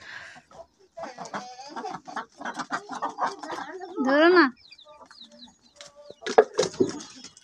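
Sonali chickens cluck and squawk close by, one loud burst standing out, mixed with ducks while people talk over them.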